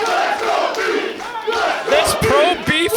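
Live pro wrestling crowd in Yarmouth roaring, shouting and cheering continuously during a Limitless Wrestling match, loud and close with rising yells and whoops throughout.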